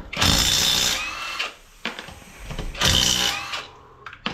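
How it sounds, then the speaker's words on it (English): Tools working on a bicycle's back wheel in a garage, two loud bursts of whirring, ratcheting mechanical noise close by, separated by quieter clicks and clatter. "now we're gonna unscrew the back wheel"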